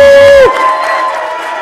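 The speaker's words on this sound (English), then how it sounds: "Standing ovation." A crowd at a swearing-in ceremony gives a loud standing ovation. A sustained whoop cuts off into a blend of cheering and shouts that continues to the end.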